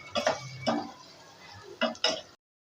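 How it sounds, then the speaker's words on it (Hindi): Spiced potatoes being stirred in a pan with achari masala, giving a few scraping, clinking strokes of a spoon against the metal in short separate bursts, near and fairly quiet, with no talk over them. "इसको हल्का से इस तरीके से चलाएं।"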